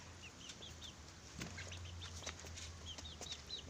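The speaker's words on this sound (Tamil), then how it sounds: "இந்த ஒரு குஞ்சு தாங்க இப்போ உயிரோடு இருக்குது நம்ம வீட்டில்." Small chick peeping in a home yard, with several short high chirps scattered through the clip over a steady low background hum, fairly faint and alone without talk.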